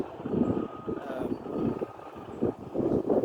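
Gusty wind buffets the microphone outdoors during a beehive inspection, low rumbling bursts that rise and fall over a few seconds.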